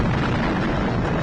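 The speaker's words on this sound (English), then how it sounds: "we hear but don't see another explosion behind them that blows both their caps off their heads" Explosion going off behind a Jeep in the war film Catch-22, a dense, sustained roaring blast that fills the whole moment loudly with no voices over it.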